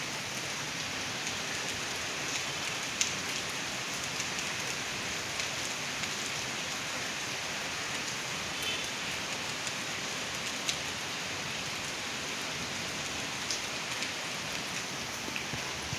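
Steady, continuous rain falls on surfaces during the third straight day of monsoon downpour, a dense, even hiss at moderate level with scattered drop ticks and no voices.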